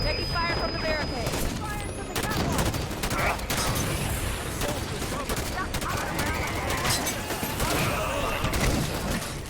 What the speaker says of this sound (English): Taking fire from the barricade.